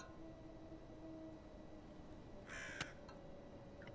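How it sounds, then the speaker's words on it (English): A raven in the video game Tick Tock gives a single harsh caw, short and fairly faint over a quiet steady hum, followed by a sharp click. "Freaking Raven!"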